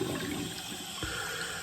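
Very hot water runs from a tap to rinse a straight razor blade, a steady hiss and splash from start to finish with a brief low gurgle partway through and no talk.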